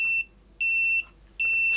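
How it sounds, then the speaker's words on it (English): Kaiweets multimeter voltage tester emitting three steady high-pitched electronic beeps, each lasting about half a second with short gaps between them, clear and alone with no talking. "If the beep is fast, it means it's high voltage"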